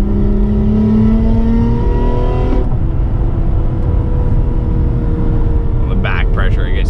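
Acura TL with a busted exhaust flex pipe, loud engine climbing under hard acceleration and then dropping off abruptly when the throttle is released in gear, a raspy leaky rumble continuing, with a voice speaking over the end.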